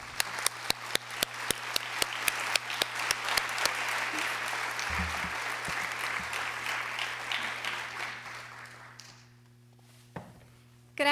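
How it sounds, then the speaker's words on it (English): At an aviation forum on gender equality, a crowd gives sustained applause for Afghanistan's first female civilian pilot, with crisp individual claps over a dense wash that tapers off near the end, followed by a brief quiet stretch and a thump. "And we need to give her a big round of applause."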